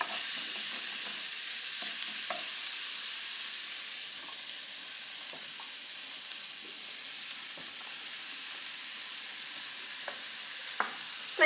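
Meat and vegetables fry steadily in a pan, a continuous bright sizzle with occasional soft stirring scrapes and small pops, close and alone.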